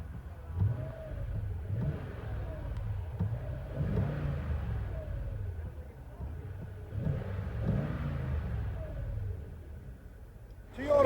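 Low, steady engine rumble of a Toyota Tundra Platinum 5.7L i-FORCE V8 with turn-down exhaust, heard from inside the cab while it idles and backs up, with mild swells in revs and a brief louder burst at the end.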